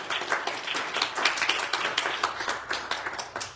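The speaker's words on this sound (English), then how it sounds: "Will you clap your hands to the Lord and pray?" A church congregation claps hands in a steady, rhythmic beat, many palms together, fairly loud and sustained throughout with no talk over it.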